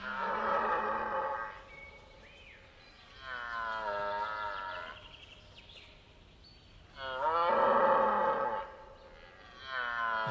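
Red deer stags bellowing in the autumn rut in Central European forest, three long, deep, roaring calls with strong harmonics, each lasting about two seconds and separated by quieter pauses, fairly close and loud.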